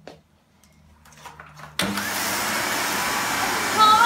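A 2005 yellow Numatic Henry HVR200-22 vacuum cleaner, recently cleaned and repaired, is switched on after a few quiet handling sounds, then runs with a loud, steady motor roar that rises slightly near the end.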